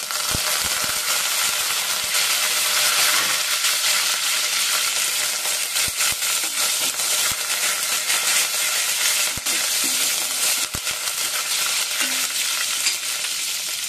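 Mustard seeds, cumin, green chillies and curry leaves crackle and sizzle in hot oil as a tempering for a broad bean and tomato curry, a loud, steady frying hiss with scattered sharp pops and stirring clicks throughout.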